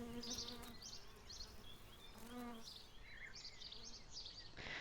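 Honeybees buzzing steadily throughout, a dense droning hum with several overlapping wingbeat tones rising and fading as bees move near and away.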